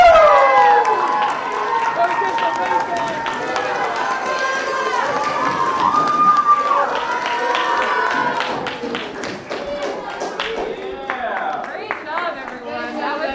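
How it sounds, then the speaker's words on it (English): Middle school students at a poetry slam cheer and shout together in a loud, sustained burst, with excited voices and chatter filling the room throughout. "Let's cheer for everybody and let's call it a weekend"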